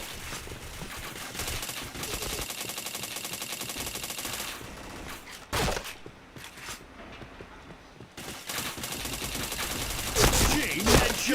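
Rapid automatic gunfire from a shooting video game, bursts of shots with brief pauses and an explosion-like crack, dense and loud throughout.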